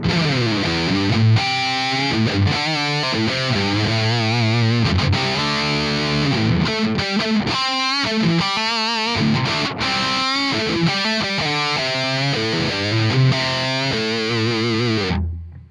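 Distorted electric guitar tone captured on a single Shure SM57 dynamic mic in front of the amp, the ribbon mic muted, with bitey, bright high end; a continuous riff of chugging chords and sustained notes plays loud and alone for about fifteen seconds.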